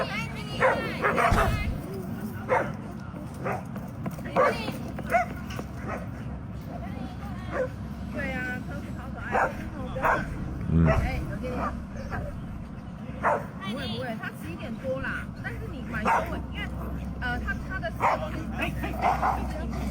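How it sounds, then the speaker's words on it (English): A Border Collie barks, yips and whimpers while attacking another dog, sharp repeated barks over a dense background of voices and commotion, with people talking throughout. "Border Collie is just going ham trying to attack this dog."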